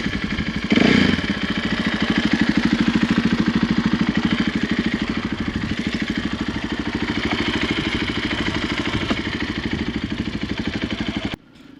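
Custom KTM 500 EXC-F off-road motorcycle engine running steadily at a close, loud, even idle-like pulse with a brief rev near the start, with no talk, outdoors on mountain trails.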